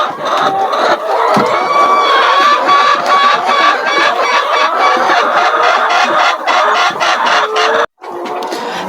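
Laying hens on a poultry farm cluck and cackle continuously at close range, a dense, lively chorus of overlapping bird calls lasting several seconds with only a brief pause.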